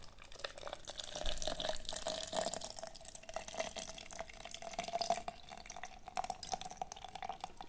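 Juice for a homemade skin remedy is poured into a container, a faint trickling, dripping liquid stream that runs steadily with no talking.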